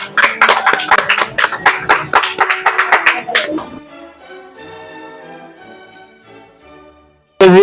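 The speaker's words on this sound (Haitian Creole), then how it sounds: "on applaudit pour le recevoir." Wedding guests clap in a brisk, loud burst of applause for several seconds while a voice speaks over it, then the clapping fades out.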